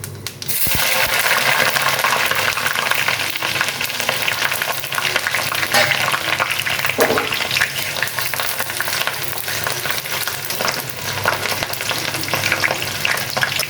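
Chopped onion sizzling loudly in hot oil with bay leaf, dried chili and cumin for a duck curry, a steady close frying hiss with occasional stirring scrapes throughout, no talk.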